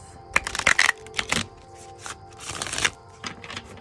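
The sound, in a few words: shuffling oracle card deck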